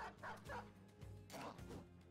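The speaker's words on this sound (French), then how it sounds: "On va sortir le chien également." A video-game dog gives a quick series of barks and yips, loud and close, in short bursts over about two seconds.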